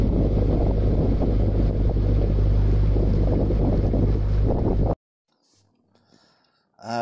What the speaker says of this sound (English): Extremely windy now,